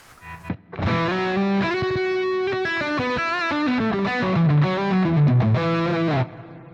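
An electric guitar plays a distorted melodic run through a Dirty Shirley amp model on a Fractal FM9 modeler, sustained notes and bends ringing loudly and alone before cutting off.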